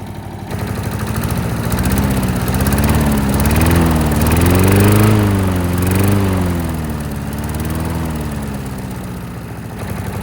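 A small lawnmower engine, swapped into a Toro mower, runs steadily at close range, a throaty rumble that rises slightly in pitch midway and then settles, with no talking.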